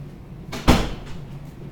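A door at an office building's loading dock opens with one sharp thud and rattle, followed by a brief fading rumble.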